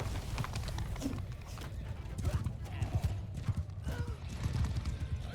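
Cavalry horses in a Viking-era strategy battle game, rapid clip-clopping hooves galloping close by with a whinny mixed in, layered over battle noise and steady talking.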